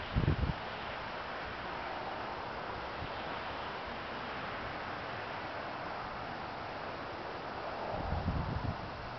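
Wind blows across small Chinese wind turbines outdoors near large solar panels, a steady broadband rushing hiss with brief microphone buffeting at the start and swelling again near the end.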